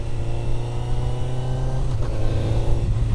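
A 22-year-old motorcycle engine runs loud and close with a steady, throbbing hum that lifts slightly as it is revved, with no talking.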